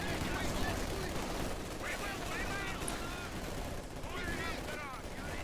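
Scattered gunshots and battle noise in a real-time strategy match, with mortar and grenade fire part of the same fight, forming a steady, busy rumble of shots at moderate distance throughout.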